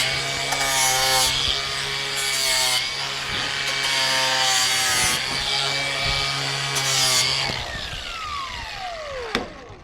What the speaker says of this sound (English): Gonna chamfer the edge.